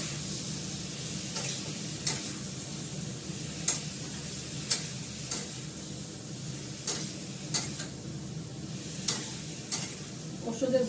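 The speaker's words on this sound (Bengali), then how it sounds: "হলুদ দিলাম, একটু নাড়াচাড়া করি" Spices with turmeric fry in a pan, giving a soft, steady sizzle broken by sharp, regular taps and scrapes of a spoon as they are stirred, close and fairly quiet.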